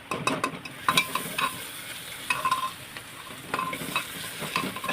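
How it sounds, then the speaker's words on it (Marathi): Ginger garlic paste sizzling and being stirred in hot oil for a masala bitter gourd curry, a steady close fry with scraping stir strokes, no voices. "छानपैकी तेलामध्ये परतून घ्यायचं"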